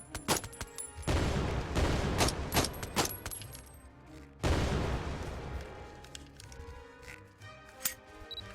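Gunfire in the VR shooter Out of Ammo: fairly quiet clusters of sharp shots in two rapid volleys separated by brief pauses, then scattered single shots.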